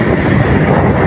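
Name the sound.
strong wind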